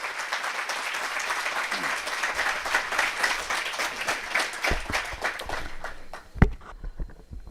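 An audience breaks into loud, sustained applause welcoming Ram Mori to the stage at a literary event; the clapping fades after about five seconds into scattered claps.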